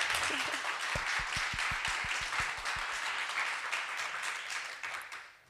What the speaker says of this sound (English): I would ask for a round of applause to all of